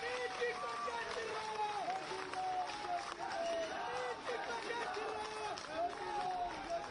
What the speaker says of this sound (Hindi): एक बार जोरदार दोनों हाथ उठाकर तालियां बजाकर सर का स्वागत करेंगे